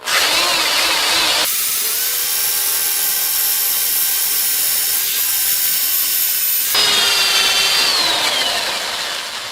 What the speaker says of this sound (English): And just start drilling away.